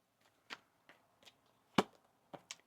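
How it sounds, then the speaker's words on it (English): A deck of tarot cards is shuffled in a quiet room, giving five or six soft, separate flicks and slaps spaced unevenly over a few seconds. "One more shuffle."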